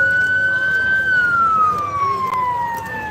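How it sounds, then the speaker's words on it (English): A loud emergency vehicle siren wails nearby during a parade of lights in Brighton, one long tone holding steady then gliding downward, over a low rumble of traffic. "Stop the siren"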